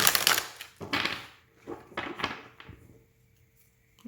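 Tarot cards are shuffled in several short, crisp riffling bursts separated by brief pauses, close and fairly quiet, with no talking.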